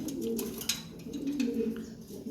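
Military and Hema pigeons coo softly in a loft, a few low, rolling calls close by, with faint rustling in the background.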